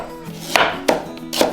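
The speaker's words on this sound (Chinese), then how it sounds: "接下来我们切点小葱段" A kitchen knife chops scallions and ginger on a cutting board while braised beef is being prepared, giving three distinct, close, sharp chops spaced about a third of a second apart.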